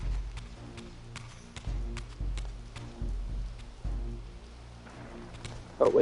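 Steady patter of rain falling inside a building in the video game Soul Reaver 2, with scattered drips and taps on hard surfaces, a low droning hum underneath, and a louder bump near the end.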